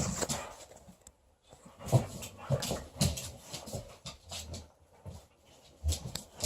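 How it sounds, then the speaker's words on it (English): Dogs whimpering and whining indoors, several short high cries scattered across the stretch with faint panting between them, fairly close and alone without talk. "these dogs are hard to ignore."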